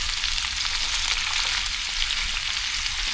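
Smoked sausage and rice sizzling loudly in a hot pan while being stirred, a dense continuous hiss with faint scraping, close and steady with no talking.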